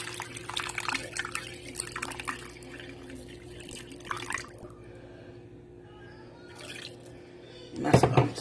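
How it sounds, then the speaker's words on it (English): Water poured into a cooking pot while making smothered neck bones, a soft continuous splashing trickle at moderate distance, fairly quiet, ending with a brief louder splash. "And then pour another 2 cups of water on."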